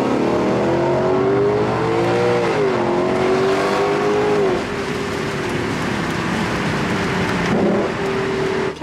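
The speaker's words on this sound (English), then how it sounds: "Listen to the sound of this naturally aspirated V8. That downshift is great." A 2023 Lexus LC500 convertible's naturally aspirated V8 revs loudly and up close, its tone climbing and then falling through a downshift before settling into a steady drone, with no talking over it.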